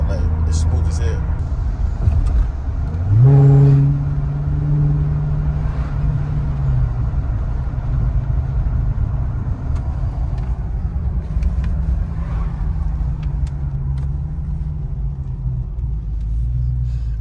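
A 2023 Dodge Challenger Hellcat Redeye Jailbreak, Last Call edition, cruises down a street with a steady low engine rumble and road drone heard from inside the cabin. A brief throatier swell comes early on, and talk carries on throughout.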